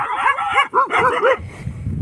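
Several dogs bark and yip in a rapid, overlapping burst, close and loud, then fade into low rumbling background noise.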